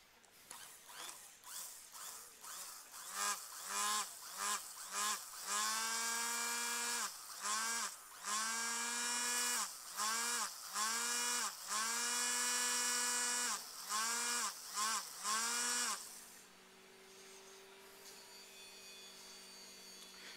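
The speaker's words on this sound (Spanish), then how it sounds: "Licuar un poco." A kitchen blender liquefies a cabbage mixture, whining in a rapid series of short pulsed bursts of rising motor pitch for about sixteen seconds, then settling into a lower, quieter steady hum.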